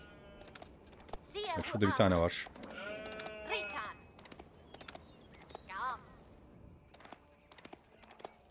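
Sheep bleating in the real-time strategy game Age of Empires IV, a few short bleats mixed with fast keyboard and mouse clicks under a quiet voice.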